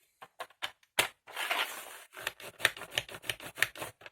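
Paper or card being creased and folded by hand while making a box, a series of short crisp taps and rustles with a longer scraping crinkle in the middle, close and fairly quiet, with no voice.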